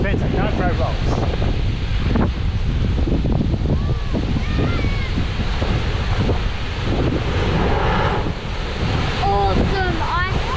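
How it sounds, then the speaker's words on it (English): Big waves surging and booming through coastal blowholes, a loud rushing roar buffeted by heavy wind noise on the microphone, with people talking faintly at times. "They're massive waves."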